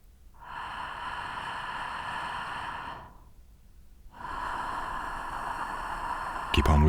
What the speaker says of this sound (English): Keep on with the throat friction.